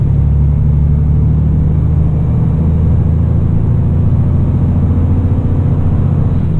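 A loaded DAF XG+ truck drives with a deep, steady diesel rumble and drone filling the cab, constant and loud with no change in pitch and no voices.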